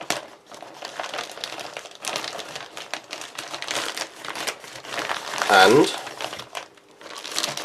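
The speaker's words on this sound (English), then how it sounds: "I'm just going to slit the bottom of the pack" A plastic ration pack from a Kazakhstan 24-hour ration is slit open and crinkled, soft rustling and crackling close by with one brief louder crinkle, a voice talking over it.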